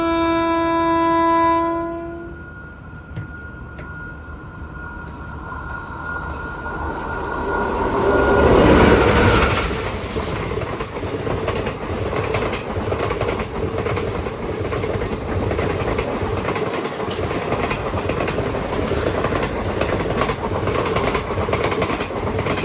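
A long train horn blast opens, then a train rumbles past close by at Itkayala station during a crossing, a loud, steady roar of wheels and cars that carries on to the end with no voices.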